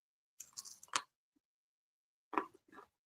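Crunchy bites into home-fried chicken wings: two close, crisp bursts of crunching separated by a silent pause, with no talking.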